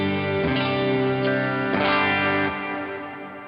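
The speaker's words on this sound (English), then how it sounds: "that is the electric sound" An electric guitar played through an HX Stomp XL electric preset rings out distorted chords with chorus shimmer, sustaining and shifting between two or three strummed voicings before fading slightly near the end.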